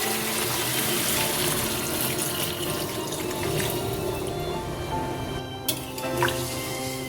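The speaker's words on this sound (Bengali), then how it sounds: "দিয়ে দিচ্ছি পরিমাণ মতন জল।" Water poured into a papaya and potato curry, a continuous close splashing and gurgling pour with a slight tap-like rush, ending with a couple of small clinks near the end.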